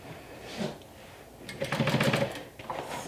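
A sewing machine top stitching a garment, with a brief whirring run of stitching after a short pause, close and moderately loud.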